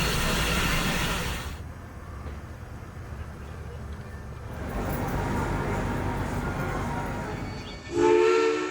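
Durango and Silverton narrow gauge steam train 261 pulls out of the Durango Depot on a winter morning, a loud steady hiss and chuff of steam filling the air, easing off mid-way, then a sharp tonal whistle blast at the end.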